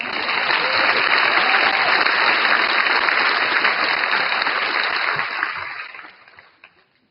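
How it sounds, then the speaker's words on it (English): Sustained applause from a large audience at a 2024 high school graduation ceremony, loud and dense from the start, then fading out over the last second or so. "On behalf of the class, let's give them a round of applause."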